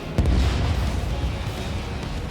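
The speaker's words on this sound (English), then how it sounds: "Missile launched." Missile launch and explosions in the Ace Combat 7 jet combat game: a sharp burst near the start, then a loud, dense, sustained roaring rumble with no talk.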